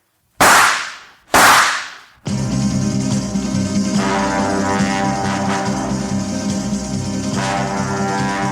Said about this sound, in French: Je t'assure, Blanche, 2 coups de feu, tirés tout près d'ici